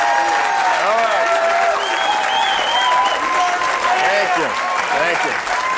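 A comedy show audience applauds and cheers loudly and steadily throughout, with a voice speaking over the clapping.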